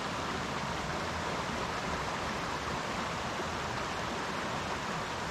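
A mountain brook trout creek runs through backcountry at about 4,300 feet, its water rushing in a steady, dense, unbroken wash from start to end, close and fairly loud with no voices.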